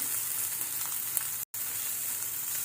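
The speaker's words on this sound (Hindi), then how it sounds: "बहुत ही हल्का सा हमें सिर्फ भूनना है।" Onion fries lightly in a pan for a veg makhani malai sandwich, a soft, even sizzle running throughout with a momentary dropout in the middle.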